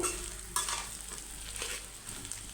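Fish roe frying in a pan over a low flame, a steady soft sizzle with a brief scrape of stirring partway through, close and continuous.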